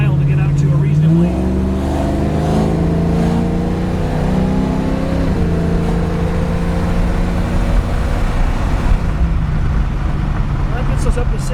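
A 1968 Chevrolet Camaro accelerating along a road, its engine note climbing steadily through the gears as a loud, continuous drone heard from inside the car, with someone speaking over it.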